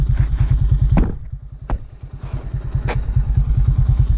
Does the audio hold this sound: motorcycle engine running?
yes